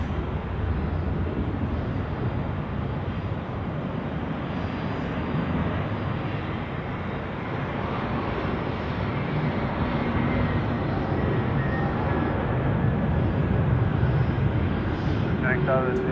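An airliner touches down at Zurich Airport on a gusty crosswind day, heard as a steady, broad engine roar from a distance that holds at an even level throughout.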